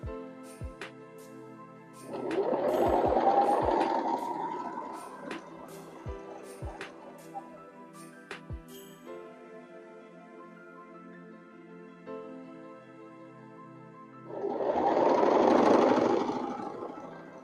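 A sewing machine stitches fabric down in two short runs of steady motor whir, separated by a long quiet stretch of light handling clicks.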